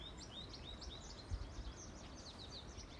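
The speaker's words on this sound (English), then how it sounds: "we hear the birds singing" Small birds sing in woodland beside a flowing creek, a string of quick bright chirps and whistled phrases over a soft steady wash of water, faint and somewhat distant.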